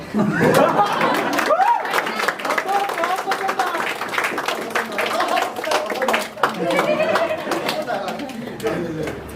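An audience claps after a Hindi romcom-tragedy stage play, dense close applause mixed with crowd chatter and scattered chuckles, continuing steadily throughout.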